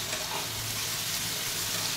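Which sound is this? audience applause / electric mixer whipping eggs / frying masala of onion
frying masala of onion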